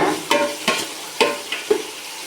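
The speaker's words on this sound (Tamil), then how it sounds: "எல்லாத்தையும் ஒரு தடவை நல்லா கலந்து விடுங்க" A spatula stirs onions with coriander and mint in a hot pan, making four or five distinct scraping strokes over a light continuous sizzle. No one speaks.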